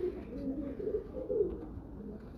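Faisalabadi pigeons coo nearby in soft, repeated rolling phrases that swell and fade over a quiet background.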